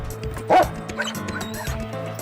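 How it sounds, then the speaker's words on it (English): A police dog named Riley barks in short yapping bursts with some whimpering, one loud close bark standing out, set against a busy background during a store burglary. "of course Riley's barking"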